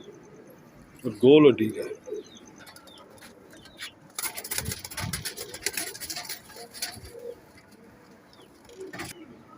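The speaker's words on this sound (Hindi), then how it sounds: "ये मियाँ साहब वाले कबूतर हैं सलारे" Male pigeons of the red-eyed Miyan Sahab breed coo once in a short rounded burst near the start, followed by soft rustling and faint calls while someone talks over them.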